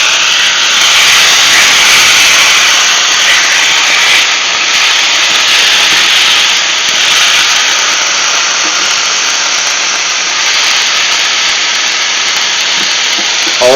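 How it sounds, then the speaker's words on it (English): Corned beef hash with cabbage sizzles loudly in a smoking hot cast iron skillet, a dense, steady roaring hiss that holds nearly constant throughout, close up and with no talking. "So that's going into a smoking hot cast iron skillet."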